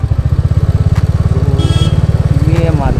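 A motorcycle on a solo ride in Sikkim rolls slowly through a local market toward a parking spot, its engine putting out a loud, close, steady low thump that holds for the whole three seconds, with faint background sounds near the end.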